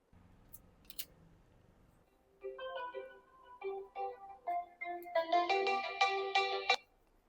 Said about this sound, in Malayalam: ഇന്ന് നമുക്ക് വന്നിട്ടുള്ള ഒരു കസ്റ്റമറിന്റെ കോളാണ് കേട്ടോ.